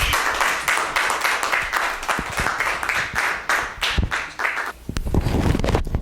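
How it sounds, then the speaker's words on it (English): An audience gathered at an event honoring a Black history figure applauds, sustained dense clapping near and loud, thinning into scattered claps toward the end. "I hope you heard the applause of those of us gathered here"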